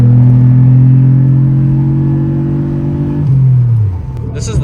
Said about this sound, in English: here's a little sound clip of the new intake for you guys